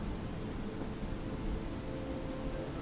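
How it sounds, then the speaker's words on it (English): Steady heavy rain pours and patters against stone walls and windows during a thunderstorm, a dense continuous wash with low rumbling underneath and no voices. "the rain becomes harder, tapping against the stone and the windows"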